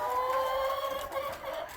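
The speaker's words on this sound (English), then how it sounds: "That is chickens in behind. All the slopes go out into the chicken pen." Chickens cluck and murmur steadily in a pen behind rows of rabbit production cages, a close continuous farmyard chatter with no talk over it.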